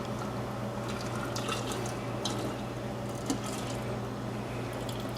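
Peach ice cream base is poured through a rubber canning funnel, giving a soft, continuous liquid trickle with faint squishy drips, close and quiet, with no talking.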